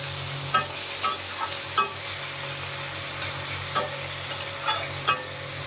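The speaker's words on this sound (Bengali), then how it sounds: "আর দিয়ে দেবো কেটে রাখা টমেটো আর ক্যাপসিকামের কুচি এবার এটাকে ভালো করে ভেজে নেবো" Green chilli, chopped tomato and capsicum fry in a pan with a constant soft sizzle, and a utensil stirs against the pan in sharp periodic clacks.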